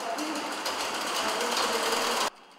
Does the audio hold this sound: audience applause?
no